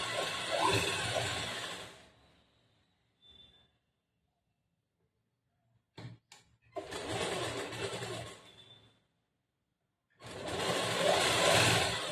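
An electric sewing machine stitches blouse fabric, running in three loud, steady bursts of whirring with quiet pauses between them and no voices.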